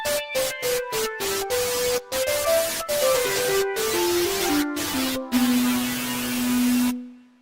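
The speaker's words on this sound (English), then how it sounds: "What you hear is Dexed 1 and Dexed 2." Two Dexed DX7 synthesizer plugin patches play together: a sustained, buzzy tone descending step by step in a sequence of choppy notes with brief silent gaps, ending on a long held low note that cuts off abruptly.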